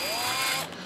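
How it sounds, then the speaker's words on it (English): An electric drill bores holes in a repurposed metal locker, a steady high-pitched whine with a grinding edge that runs for under a second. The sound is loud and close, with no talking. "Now we're just drilling out our holes that we have marked."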